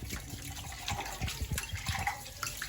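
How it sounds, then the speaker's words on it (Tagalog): Dishes being washed under a running tap at a household sink, with a steady gush of water and scattered clinks and knocks of dishware, fairly close and continuous throughout. "So naghuhugas lang po tayo."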